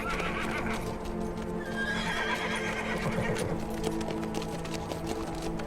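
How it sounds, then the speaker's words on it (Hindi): A horse whinnies loudly while its hooves clip-clop in a steady rhythm, close and continuous, over a busy outdoor background. "चल चल मेरे घोड़े चल।"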